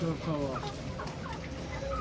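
Chickens clucking at a busy animal market, a steady mix of overlapping clucks and calls with murmuring crowd voices underneath.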